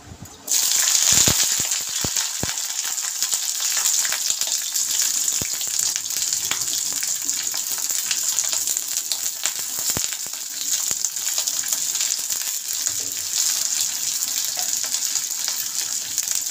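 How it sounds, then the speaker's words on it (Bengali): Cauliflower florets fry in hot oil in a pan, a loud, steady, dense sizzle running throughout after a sudden start, with a few faint clicks and taps mixed in. "এই সবজিগুলো আমি এক এক করে সব ভেজে নেব"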